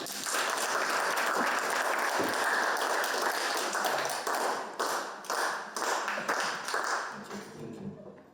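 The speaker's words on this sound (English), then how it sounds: "Opsi Dictator, please give her a round of applause." An audience at a university speech competition gives a contestant a sustained round of applause, dense clapping that holds steady and then thins out toward the end.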